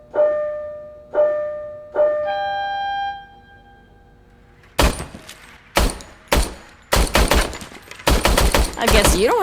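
Service weapon firing in Robocop: Rogue City, preceded by three rising electronic calibration tones, then a short pause and a series of loud, sharp gunshot bursts, single cracks giving way to rapid automatic volleys close up.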